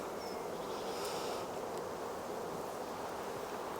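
Honeybees humming around a hive on a stand in an apiary, a steady dense buzz with breezy outdoor air, continuous and fairly loud throughout without any talking.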